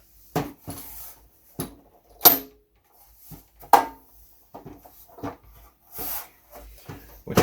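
Spring contacts on a Keithley 2001 multimeter snap loose as its metal housing and shielding slide off, giving a series of close, sharp metallic clicks and scrapes spaced irregularly, with quiet gaps between.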